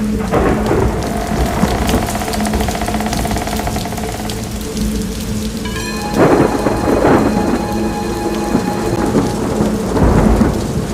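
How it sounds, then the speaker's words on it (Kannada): Heavy rain roars down without a break while thunder rumbles and cracks several times, loud and close, with no voices. "ಮಳೆ ಈಗ ಗರ್ಜಿಸುತ್ತಿತ್ತು."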